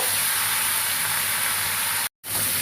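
Potatoes and pumpkin hitting lightly fried onions in a pan for a crab curry, a loud steady sizzling hiss broken by a sudden brief dropout before resuming.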